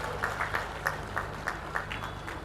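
A crowd at a political rally in Assam for BJP national president J. P. Nadda claps in a loose, rhythmic patter of distinct hand claps, moderately close, with no speech over it.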